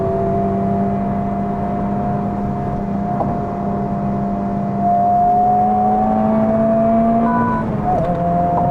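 Loud cabin drone of a 2023 Honda Civic Type R under full throttle, its engine tone rising steadily through the gears with a brief dip near the end, with no talking.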